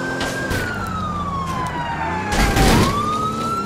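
A police car siren in GTA IV multiplayer wails steadily throughout, its tone sliding slowly downward and then rising again, with road and engine noise growing louder near the end.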